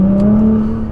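Turbocharged engine of a Nissan GT-R with 550 hp, accelerating in a steady, loud, close drone with a strong sustained tone that holds through the whole second.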